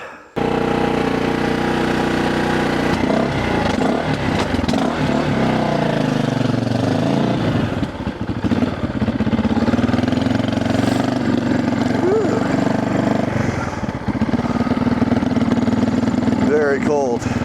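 A racing motorcycle prepared for a Utah State Racing Association season runs steadily and loudly throughout, its engine note shifting and dipping briefly mid-way, with people talking over it.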